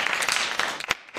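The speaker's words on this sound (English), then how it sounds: "everybody give him a round of applause" An audience applauds a guest speaker, a retired brigadier general, at a JROTC gathering: a short, steady burst of clapping from a room of people that carries on through the clip.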